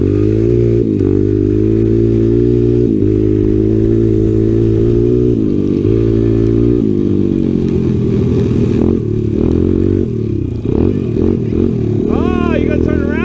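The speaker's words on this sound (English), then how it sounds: "Choke on, that's why she's running weird." Honda XR 100 dirt bike engine running rough with the choke on, a loud continuous buzzing idle with uneven revving on snow, close by, with people talking over it.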